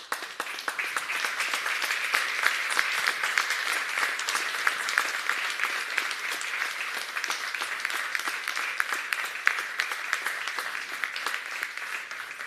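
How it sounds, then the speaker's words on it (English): A crowd at a Hungarian sommelier championship applauds steadily, dense clapping sustained throughout at even loudness. "I'd like to have a round of applause each one of them"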